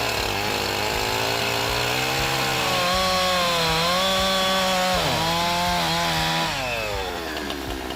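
A chainsaw cuts lengthwise along the pith of a black acacia stump, engine roaring loud and close for the whole stretch with pitch bending as the chain bites into the wood, then easing slightly at the end.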